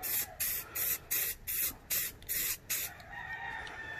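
Short bursts of spray coating hiss onto a K20 RBC intake manifold, about eight even passes in quick rhythm, close and loud, ending in a quieter lingering hiss.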